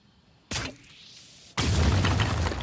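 Launch RAM destroyed in the video game Phoenix Point, a sudden boom followed by a falling whoosh and then a louder, sustained crackling rumble of debris.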